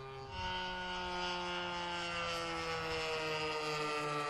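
A warbird aircraft carrying bombs and rockets climbs steeply after takeoff with its gear retracting. Its engine gives a steady, loud droning hum with strong tonal harmonics that holds throughout with little change.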